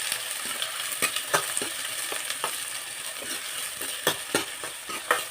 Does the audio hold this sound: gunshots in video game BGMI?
no